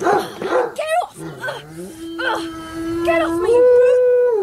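A cartoon dog attacks in an animated story, with growls and howling yelps mixed into excited character voices and shouting.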